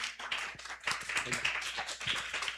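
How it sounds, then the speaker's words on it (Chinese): A church prayer-meeting congregation claps steadily, a dense patter of applause close by, with a voice speaking briefly underneath. "再次拍手来"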